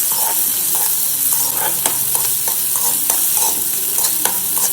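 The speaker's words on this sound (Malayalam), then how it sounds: "അപ്പോൾ നമ്മൾ ഉള്ളി വഴറ്റിയെടുക്കാം." Onion sautéing in hot oil with mustard seeds for an evening vermicelli snack, a loud, continuous close-up sizzle broken by repeated stirring scrapes and clicks of a utensil against the pan.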